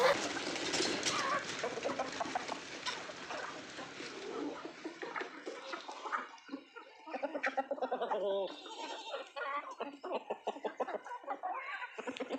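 Chickens and a rooster at a village farm cluck in rapid, repeated bursts close by. The noise is dense at first, then turns into choppy cackling that goes on through the rest of the clip.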